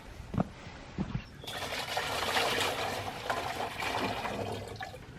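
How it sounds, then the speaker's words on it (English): Water rushes and trickles steadily into a goats' water container being refilled on a farm, preceded by a few thumps, fairly quiet and close. "fill it up with water"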